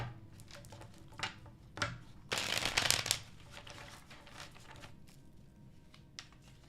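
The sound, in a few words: shuffling tarot cards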